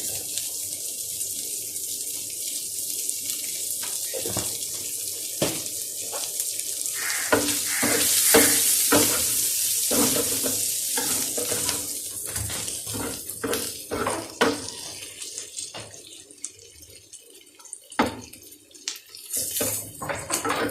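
Beef liver frying on a tawa griddle: a steady close hiss and sizzle with scattered clatter of utensils against the metal, swelling louder in the middle and easing off, with no talking.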